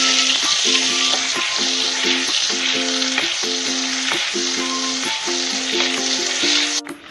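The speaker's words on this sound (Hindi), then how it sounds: "Curry leaves, onion. अब इसको हम सौटे कर लेंगे।" Onions and curry leaves sauté in a pan with a loud, steady sizzle, broken by regular bursts of scraping and clattering as the mixture is stirred, with no talk over it.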